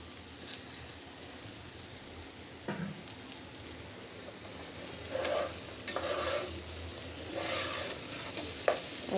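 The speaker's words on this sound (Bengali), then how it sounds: "এখন কাঁচা পেঁয়াজ আর কাঁচামরিচ দিয়ে দিব।" Raw onion and green chillies go into a pan over browned onion for bhuna khichuri with rice and moong dal, giving a soft, steady sizzle with occasional stirring scrapes that get a little louder near the end.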